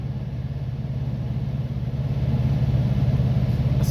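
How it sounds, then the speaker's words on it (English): A Thermo King auxiliary power unit on a truck runs steadily, a low droning engine rumble at a constant idle that grows slightly louder toward the end, with no voices. "That's the sound of a fully functioning APU."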